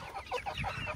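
Juvenile chickens give a quick run of soft, close clucks and chirps during a heavy rainstorm, the rain's steady hiss underneath.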